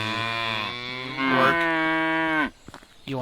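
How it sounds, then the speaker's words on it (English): A cow in the medieval farming game Medieval Dynasty gives a long, loud, close moo that rises partway through and breaks off, leaving a short quiet tail. "Boy, that cow's loud."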